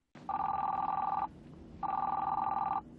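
A car phone rings in a film scene, two long electronic trilling bursts separated by a short gap, loud and close with no voices.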